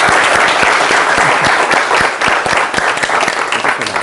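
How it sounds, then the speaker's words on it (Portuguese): Loud, continuous audience applause for a typography speaker at a design talk, a dense wash of clapping with distinct sharp claps standing out near the front. "Uma salva de palmas de novo, Fábio."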